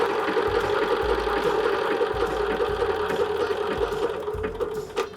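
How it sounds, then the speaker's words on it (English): A domestic sewing machine stitches a blanket stitch around the edge of an embroidered robin cushion cover, running as a steady close mechanical whir and rapid needle chatter that continues without pause and eases slightly near the end. "I am going to just do the blanket stitch. It's my favorite, all the way around, just to give it a little edge."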